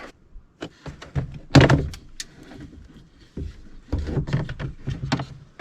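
Trim pieces are pulled free from the interior door panel of a 2008 Honda CR-V EX-L, producing a run of close plastic clicks, thunks and scraping knocks, with one louder pop near the start and another busy cluster later.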